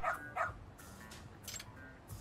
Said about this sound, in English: it appears you finally met the infamous detective dog of Ijincho